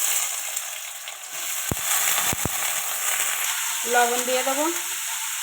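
Potatoes frying in oil in a kadai (wok) for chire pulao give a steady, close sizzle throughout, with a few sharp clicks of a utensil, and a brief voice speaks over the sizzle near the end.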